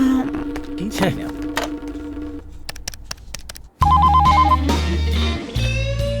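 A telephone rings with a repeated electronic ringtone pattern, heard up close over music-like tones and background sound, with a brief pause before the ringing resumes louder.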